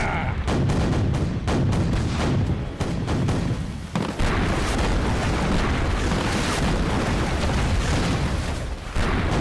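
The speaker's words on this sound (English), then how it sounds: "prepare the cannons! And fire!" Ship cannons firing in a naval battle in the shallows, a dense barrage of repeated booming blasts and rumbling explosions, loud and continuous, with shouting voices partly buried beneath.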